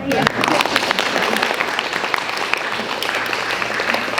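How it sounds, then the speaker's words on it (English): At a youth climate action holiday party, the audience applauds in a dense, continuous patter of clapping that holds at an even level throughout, with a few sharper claps standing out. "You guys can applaud too, by the way, if you want to."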